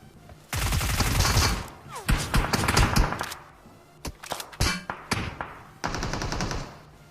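Automatic gunfire in the mobile battle royale BGMI, long rapid bursts and shorter tapped volleys of loud shots separated by brief pauses, close and dominant, with louder impacts mixed in.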